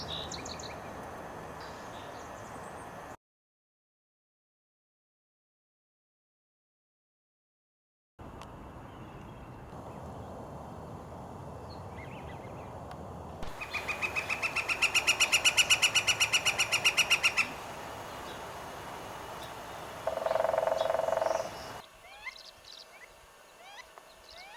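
A recorded northern flicker call plays in short segments separated by silence, with a loud, rapid, rhythmic series of calls standing out in the middle and a few shorter notes after, over light background hiss.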